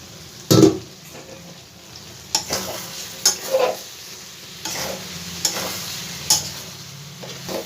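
Soybean chunks sauté with spices in a pan over a quiet, steady sizzle, broken by a loud spatula scrape near the start and then scattered clinks and scrapes of stirring against the metal.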